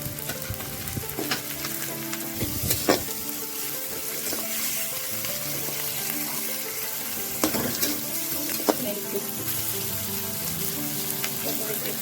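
Green chilies and tomato frying in oil in a home Bengali kitchen, a steady close sizzle broken by a few clattering stirs and splashes of running tap water, with no one talking.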